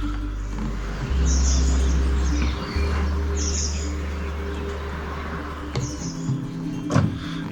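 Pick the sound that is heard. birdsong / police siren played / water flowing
birdsong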